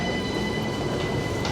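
A Vienna metro train rides along the track, giving a steady, close interior rumble with a constant hum and faint rattling, loud and unbroken from start to finish, with no talking.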